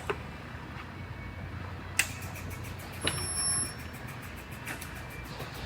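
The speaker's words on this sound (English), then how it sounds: "I'm going to do a test weld with this spot welder" A spot welder makes a test weld on a Buick with rear-end crash damage. There is a faint sharp click, then a brief electrical buzz with a snap, in a quiet shop with no talking.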